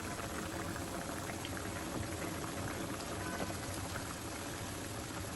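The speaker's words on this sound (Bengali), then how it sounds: "পানিটা যখন ফুটে যাবে" Water boils in a covered pot while cooking koi fish with turnip, a steady, even bubbling roar with no pauses or voices.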